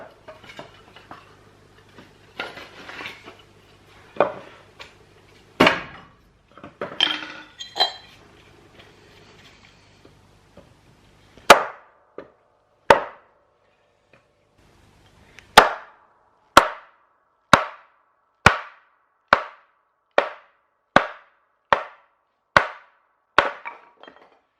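An axe bought on Amazon chops wood, with around a dozen sharp, loud impacts landing at a steady rhythm one to two seconds apart after some quieter handling knocks at the start.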